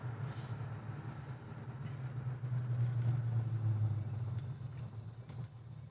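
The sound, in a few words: 1969 Oldsmobile 442 muscle car driving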